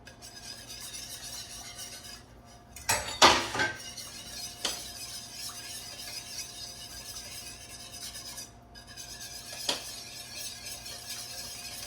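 A spoon scraping Better Than Bouillon paste into a cooking pot, a short cluster of close metallic scrapes and clinks followed by a couple of lighter taps, heard alone over a steady kitchen hum.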